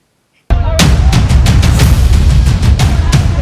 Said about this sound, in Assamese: আৰক্ষীয়ে জধে মধে চলালে কেইবাজায় গুলী